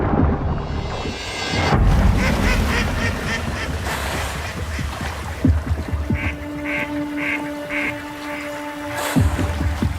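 Mallard duck quacking in a garden setting, a run of repeated nasal quacks in a steady rhythm, fairly close and clear over soft outdoor background noise.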